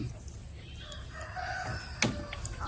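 Chickens and a rooster in a small backyard coop give faint clucks and a short crow, fairly distant and quiet over soft background noise.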